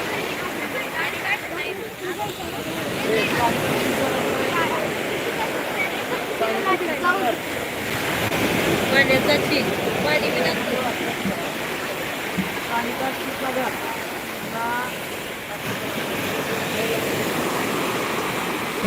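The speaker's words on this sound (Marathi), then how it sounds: "खूप मोठ्या लाटा येत आहेत" Big sea waves crash on the shore in a continuous loud wash of surf that swells and recedes, with people's voices faintly mixed in.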